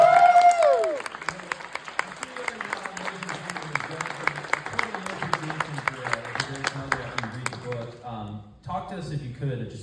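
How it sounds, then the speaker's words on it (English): Audience applause at someone's book signing for "Walking Disaster" at White Eagle Hall: steady, moderately distant clapping from a seated crowd for several seconds, fading out as a voice returns near the end. "can we just get a round of applause very quickly?"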